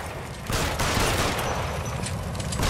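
Gunfire in the 1940s detective game L.A. Noire during a shootout with looters, a loud steady barrage of rapid shots filling the whole moment with no speech.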